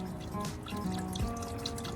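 Water poured into a pot of simmering chicken tinola soup, a steady close trickle and splash with bubbling liquid, continuous for two seconds with no talk.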